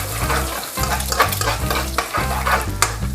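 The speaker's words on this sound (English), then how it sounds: "then once it looks pretty white around the edges, I'm just going to crack the yolk" An egg scrambles and fries in a hot wok while being stirred, with loud close sizzling broken by rhythmic scraping strokes of the utensil against the pan; no talking.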